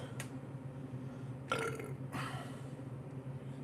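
A short belch rumbles out midway, loud against a quiet room hum, with a faint click before and a brief noise after.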